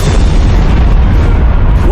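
A deep, earth-shaking explosion at a tanker complex booms loud and close, its heavy rumble holding steady for the full two seconds.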